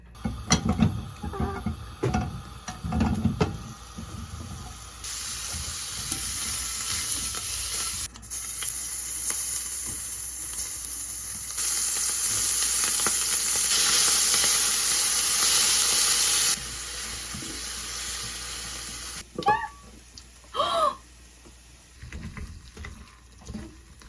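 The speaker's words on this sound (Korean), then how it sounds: "그동안 저희는 소시지와 김치를 볶아주겠습니다" Sausage and kimchi stir-fry in a pan, with loud sizzling bursts and steamy hiss rising and falling as the food is stirred and tossed, plus scraping and clattering near the end.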